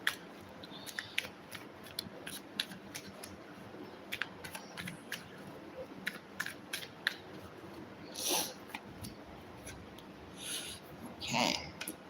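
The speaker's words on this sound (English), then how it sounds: "Let's give this a good shuffle." Tarot cards being shuffled, giving soft repeated riffles and brisk flicks that recur through the stretch, with louder whooshing bursts near the end. The sound is close and light, and no one speaks over it.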